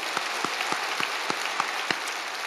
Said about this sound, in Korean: 하나님께 영광의 박수를 드리고요.